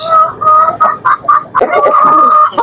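Aseel chickens of the pure Hazel Blue line cluck repeatedly in a yard, a run of short, close calls in an uneven rhythm that thickens into a busier, overlapping bout of clucking toward the end.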